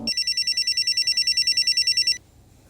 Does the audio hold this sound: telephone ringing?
yes